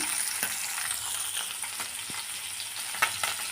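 Fish frying in oil in a pan for a home-cooked lunch, giving a steady, fairly loud crackling sizzle with scattered sharp pops throughout and no voices.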